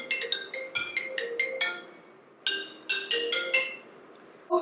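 A phone ringtone plays a bright, chiming melodic pattern in two repeated bursts with a short pause between, fairly close and clear.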